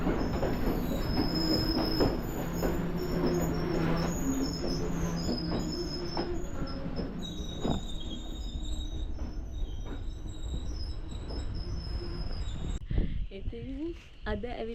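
Train on the line toward Idalgashinna in Sri Lanka's hills, heard from inside a carriage: loud continuous rumble with high-pitched wheel squeals and rhythmic clatter, easing near the end, with faint voices now and then.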